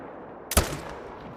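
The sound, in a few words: hunting rifle gunshot from video game theHunter: Call of the Wild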